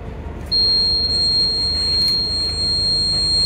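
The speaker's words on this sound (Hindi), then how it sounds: "ये अलार्म बजेगा और बीप करेगा" A gas detector alarm, an LPG leak detector, sounds a steady high-pitched electronic tone that starts abruptly about half a second in and holds continuously at full loudness, close and alone, with no talk over it.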